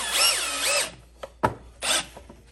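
A Milwaukee M12 drill drives screws in a few close, loud bursts: a long whirring run with rising and falling motor pitch, a short tap and knock, then another brief spin.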